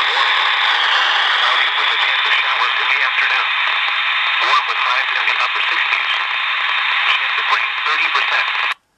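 NOAA weather radio broadcast playing loudly through a Baofeng BF-T1 mini walkie-talkie, a narrow, tinny band-limited voice with steady hiss that runs continuously for about nine seconds before cutting off abruptly.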